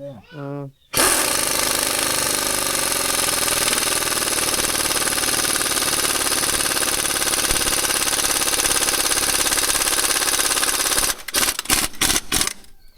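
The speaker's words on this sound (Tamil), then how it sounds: "மோட்டர் போடு, கம்ப்ரஸர் போய் ஆன் பண்ணி விடு. இந்த போல்ட்டு ஸ்லீப்பாக டைட் ஆகிடணும்." A compressor-powered impact tool tightens a rotavator blade bolt on a Mahindra Arjun Novo tractor at home, a loud continuous pneumatic rattle running for about ten seconds, preceded by brief talk and ending in short bursts.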